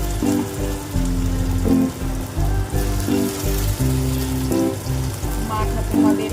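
Mustard flower fritters in a rice flour batter sizzle in hot oil, a steady crackling fry with a rhythmic, tonal background running through it.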